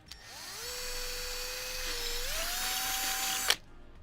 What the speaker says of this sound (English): I am certain that I should be drilling this